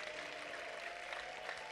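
Congregation in a church clapping for God, a steady dense wash of applause from a large crowd, fairly distant and even for the whole short stretch.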